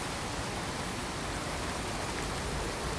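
Rain pours in the Fallout 4 game world, a dense, even hiss of falling water that holds steady throughout with no voices.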